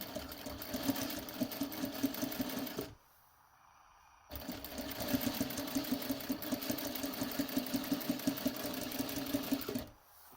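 A sewing machine stitching bias binding, its steady rapid mechanical chatter running for several seconds, stopping briefly, then resuming at an even pace before halting at the end.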